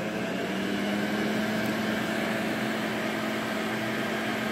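A Viking/Electrolux 507 Electronic upright vacuum cleaner runs on boost mode, a loud, steady motor whine and rushing air with no pauses or talking.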